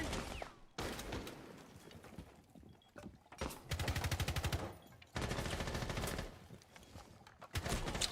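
Bursts of automatic gunfire from a Rainbow Six Siege esports match, loud rapid rattling volleys broken by short pauses, with the longest sustained bursts in the middle and near the end.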